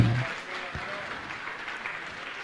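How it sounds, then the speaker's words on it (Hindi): An audience at a Jain religious gathering claps in a soft, scattered round of applause, the pattering hands fairly distant and muted beneath the room's ambience. "जोरदार जोरदार तालियों के साथ हम अभिनंदन करते हैं।"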